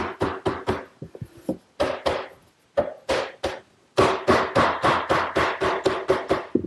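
A wooden desk panel and end stile for a roll top desk are tapped into place with a mallet: a quick series of sharp, close wooden knocks in irregular bursts, the taps growing more rapid and regular toward the end, with no speech.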